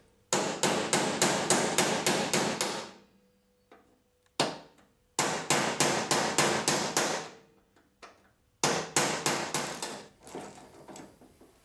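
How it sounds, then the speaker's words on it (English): A hammer drives a chisel against stuck screws on the door of a 1979 El Camino. Rapid, sharp metallic strikes come in three dense bursts separated by short pauses, with a lone clank in between. "Hammer and a chisel will usually loosen just about everything"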